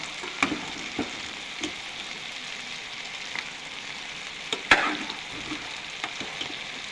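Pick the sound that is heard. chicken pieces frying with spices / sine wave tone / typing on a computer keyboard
chicken pieces frying with spices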